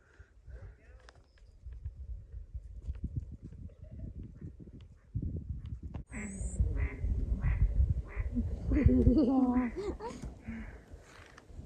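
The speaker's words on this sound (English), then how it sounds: "A lot of ducks down there, huh?" Ducks quack repeatedly from some distance on Northrup Lake in Steamboat Rock State Park, set against outdoor wind and footstep noise, with people talking nearby.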